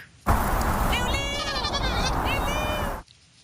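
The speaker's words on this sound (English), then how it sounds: "Now, when I say kid, I mean baby goat" A baby goat on a farm bleats in one long, loud, wavering cry that lasts nearly three seconds and is heard alone, close to the listener.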